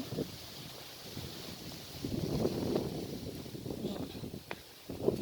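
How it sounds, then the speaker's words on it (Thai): Strong, cold wind blows outdoors while wild garlic is picked in Switzerland, buffeting the microphone with low, rumbling gusts that swell and fade over a steady airy hiss. "ลมค่อนข้างแรงนะคะวันนี้ลมพัดแรง"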